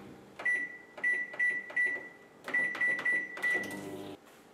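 Microwave oven running at 500 watts while melting diced butter for Nutella brownies, a series of steady high beeps in short repeated bursts over a low hum, close and clear with no talk.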